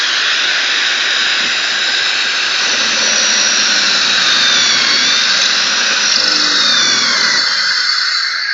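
A drum sander runs at a steady, loud, high-pitched whine with a constant hiss of sanding, the tone shifting slightly near the end as the speed changes.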